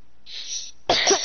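A single sharp, loud cough near the end, preceded by a faint hissy breath.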